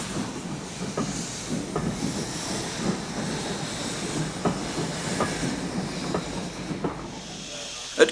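A J36 steam locomotive hauls a train on a Scottish branch line toward Kelso and Berwick, giving a steady hiss of steam with rhythmic chuffs and clicking wheel beats over the rails, at moderate distance and without voices.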